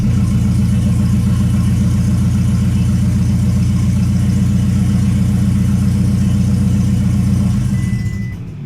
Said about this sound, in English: it just spun the engine over, and then 2, let us know that we forgot to hook our exhaust back up. So that was kind of loud